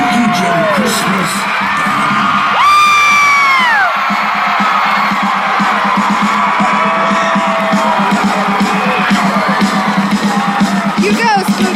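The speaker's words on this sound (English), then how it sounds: "Would you please join me in welcoming with thunderous applause Joshua Spooky Jim Christmas" Audience at a twenty one pilots event cheering loudly, with whoops, yells and high shrieks over a continuous crowd roar that stays full and close throughout.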